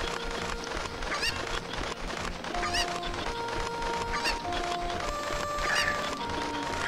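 Cuckoo chickens from The Legend of Zelda video game cluck and squawk repeatedly in a steady stream of short, fairly loud calls, with no talking over them.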